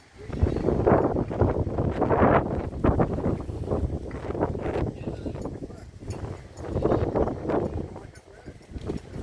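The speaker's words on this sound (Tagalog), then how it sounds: "Sa lakas ng hangin" Strong wind gusts across a house framing jobsite, a loud, continuous rushing roar buffeting the microphone throughout, with voices talking under it.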